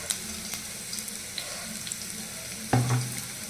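Chilies frying in oil in a pan while cooking for a Mahashivratri fasting dish, a steady soft sizzle throughout with a brief louder stirring burst near the end; no talking.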